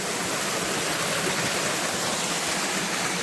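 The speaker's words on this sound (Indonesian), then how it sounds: "Ini air terjunnya anakan air terjun ini ya. Air terjun Gadung." Small cascade at Gadung waterfall beside a hiking trail, rushing in a constant broadband roar of falling water, moderately loud and steady with no voices.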